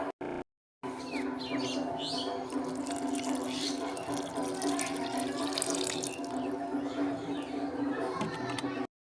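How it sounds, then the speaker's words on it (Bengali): Water poured generously onto the soil around a potted lemon plant after organic fertiliser is worked in, a steady continuous splashing and trickling after a brief start, with faint bird chirps in the background. "ব্যাস, এবার দিতে হবে ভরপুর জল।"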